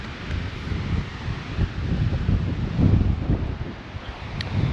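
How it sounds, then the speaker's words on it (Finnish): Strong wind buffets a microphone windscreen in an open watermelon field, a continuous loud low rumble with gusty surges and no voices. "nyt on tämä mikin tuulisuoja aika kovassa testissä. On nimittäin melkoinen myräkkä täällä"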